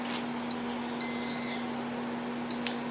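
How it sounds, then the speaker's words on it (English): Two long electronic beeps from a feeding pump alarm at a steady high pitch, each lasting about half a second, with a constant low hum running underneath. "hit pause to stop it from beeping, and then prime it again and count to 10"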